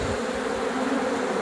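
A box hive of honey bees during swarm capture gives off a steady, dense buzzing, continuous and fairly close, with no talk over it.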